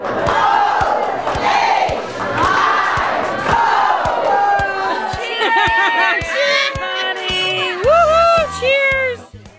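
Red Hat Society ladies cheer together in a loud, close, rhythmic group chant of repeated shouted phrases, then break into scattered individual calls and chatter.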